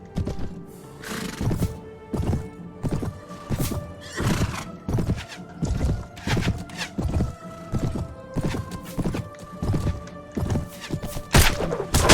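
A horse in a Lord of the Rings video game gallops close by with rhythmic, repeated hoofbeat thuds and lets out several whinnying neighs over about twelve seconds, steady and loud throughout.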